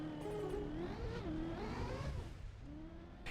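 The stadium car in the racing video game Trackmania drives with a continuous, rising and falling synthetic engine whine as it accelerates and shifts, steady and fairly quiet with no talk.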